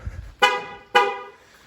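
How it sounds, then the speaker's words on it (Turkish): Two short honks of a Volkswagen Passat's horn, each sharp and bright, fading quickly, about half a second apart; no talking. "İşte kornayı çok çalıyor."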